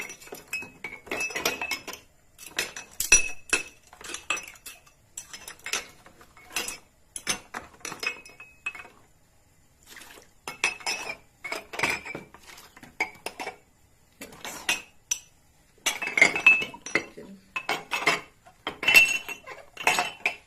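Drinking glasses being turned with tongs in boiling water, giving repeated sharp clinks and clatters in irregular bursts over about twenty seconds, close and fairly loud, with no speech.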